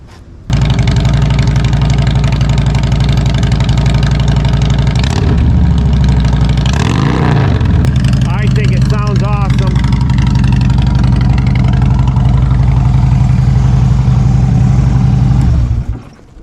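Harley-Davidson motorcycle engine fitted with homemade exhaust baffles idles loud and close with a deep steady rumble, blipped throttle revving in the middle, until it shuts off near the end.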